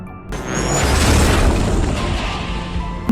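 A plane strikes a mountainside and its tail section breaks off, heard as a sudden loud boom followed by a sustained rumbling crash that slowly fades.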